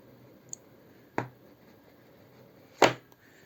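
Opening a Razer Hammerhead True Wireless earbuds box: a tiny tick, then two sharp snapping clicks about a second and a half apart against a quiet room.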